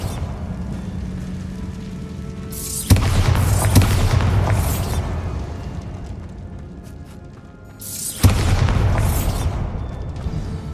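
Spell explosions from Bombarda cast in the Hogwarts Legacy video game: two loud, sudden booms a few seconds apart, each a broad crashing burst that rumbles and fades over several seconds.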